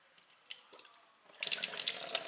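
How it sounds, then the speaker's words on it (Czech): Water trickles and splashes into a homebrew beer fermenter airlock, a soft close pour with a few drips, building into a brighter, burbling stream. "Ten bublátor je naplněný"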